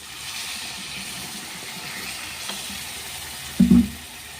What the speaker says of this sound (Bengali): এখন জল দিয়ে দিলাম।